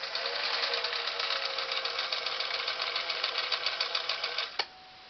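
A Singer 457 Stylist sewing machine runs a long straight stitch in a steady rapid chatter, close and moderately loud, stopping abruptly with a click near the end.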